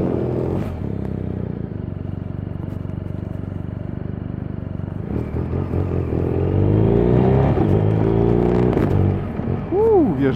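A BMW R1250 RS motorcycle engine runs close by with a steady low rumble, then revs and rises in pitch with audible gear changes. Someone talks over the engine throughout.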